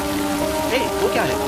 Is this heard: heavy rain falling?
yes